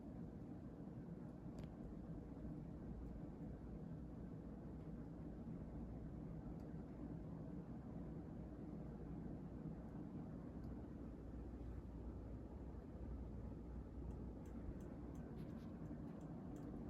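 A 1987 Gulf Coast Renaissance ceiling fan with gloss walnut blades and a flexible, wobbling flywheel runs on high, giving a steady, faint low whooshing hum that stays unchanged throughout.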